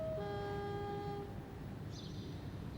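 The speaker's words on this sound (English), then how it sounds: "There's a train coming." A train approaching on the railway near Canley Fields sounds a steady multi-tone horn for about a second, then fades into a low continuous rumble, with a brief faint high squeal near the end.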